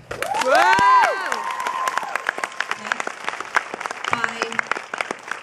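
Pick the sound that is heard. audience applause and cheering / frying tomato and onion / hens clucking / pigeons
audience applause and cheering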